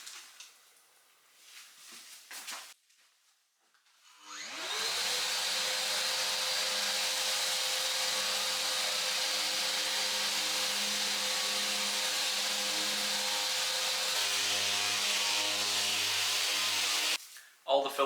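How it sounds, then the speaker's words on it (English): A heat gun force-dries filler spread over a plastered wall, switching on after a brief voice and a pause, then blowing a loud, steady whirring hiss that runs unbroken until it cuts off near the end. "I'm using the heat gun, drying it out, force drying it"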